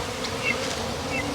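A swarm of honey bees droning in a continuous, close buzz that holds level throughout, with nobody speaking.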